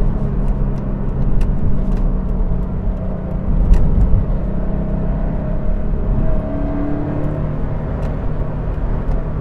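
A 2016 Toyota 86 with a manual gearbox and horizontally opposed boxer engine, rear-wheel drive, pulls hard above 4000 rpm, a steady loud engine drone heard from inside the car with rising whine tones as revs climb.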